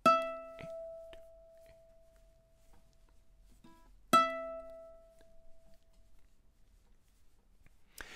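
Two ringing ukulele notes from bars three and four of a tune, spaced about four seconds apart and decaying slowly, with faint scratchy handling noise between them and a soft tap at the end.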